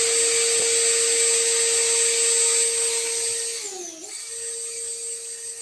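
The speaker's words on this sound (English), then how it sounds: "I'm just letting the drill bit work." A drill bit bores steadily through material at light pressure, a loud sustained high whine with a steady tone that dips and sags near the end as the bit breaks through, then resumes.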